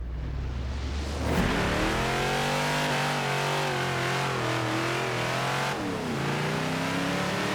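A 1973 Ford XB Falcon GT in Forza Horizon 4 accelerates hard in a drag race, its engine roaring loud and steady, pitch climbing through the revs with a brief dip at a gear change, then climbing again.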